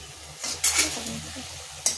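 Leafy greens frying in a pan: a close crackling sizzle with stirring scrapes and brief bursts of louder hiss as the spatula moves.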